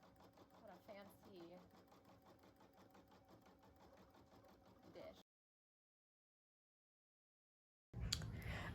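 An embroidery machine stitching a bear stuffie in the hoop, running in a fast, even mechanical rattle up close before stopping abruptly, then silence and a brief burst of noise at the end.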